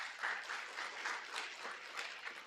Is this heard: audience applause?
yes